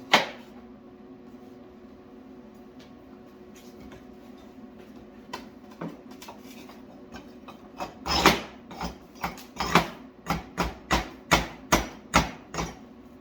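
A run of sharp metallic claw hammer strikes on a weld, about a dozen in steady rhythm, close and loud after a quiet stretch with a few faint taps.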